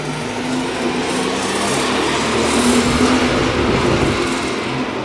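Seat Ibiza TDI diesel with an upgraded hybrid turbo running steadily on a dyno, a dense continuous roar with rushing turbo noise, loud and close, building slightly in intensity midway.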